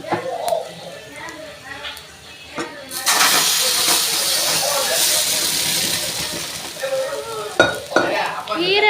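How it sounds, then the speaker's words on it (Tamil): Mashed amaranth greens stirred into a sizzling tempering in a pan, a loud burst of hiss and frying at the moment of adding, then steady sizzle with stirring scrapes. Some faint talk is heard early on. "இப்போ நம்ம கடைஞ்சி வச்சுருக்க கீரையும் இதில் ஆட் பண்ணிடலாம்"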